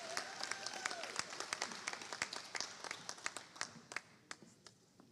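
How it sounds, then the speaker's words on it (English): Clapping for a Lifetime Achievement Award recipient at a Founders' Day celebration, a sustained round of hand claps from an audience that slowly thins and fades, with a few distinct individual claps standing out near the end. "Please let's give her a round of applause for our Lifetime Achievement Award recipient, Dr. Carolyn Kuzan."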